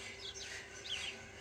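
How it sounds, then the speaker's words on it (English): Birds chirp and tweet faintly outdoors in late February, with a few short, distant calls over a quiet background hum. "The birds are beginning to tweet a lot."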